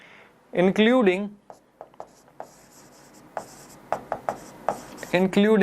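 Pen scratching on paper while a math teacher works a linear inequalities exercise, a series of short scraping strokes in uneven bursts with brief spoken phrases at the start and end.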